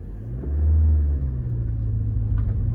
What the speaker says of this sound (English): As you're pulling the clutch out, you're about to give gas because it's about to catch.